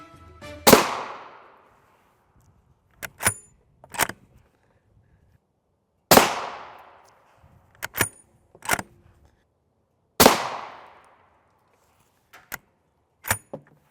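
Three loud, sharp rifle reports from a 24-inch TC Compass in .300 Winchester Magnum with a Yankee Hill Phantom M2 muzzle device, fired at a Mira Safety NIJ Level IV body armor plate, each followed by clanks and rattles, no talking.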